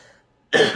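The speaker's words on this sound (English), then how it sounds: "Sorry, I had a cough." A single loud, harsh cough bursts out close by after a faint murmur and a short silence.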